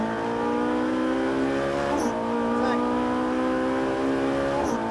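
A Ferrari 458 Italia's engine drones steadily and loudly at high revs on a race circuit, with a voice talking over the sustained roar.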